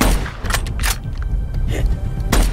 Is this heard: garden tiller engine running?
no